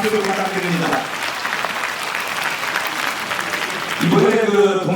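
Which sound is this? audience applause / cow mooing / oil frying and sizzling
audience applause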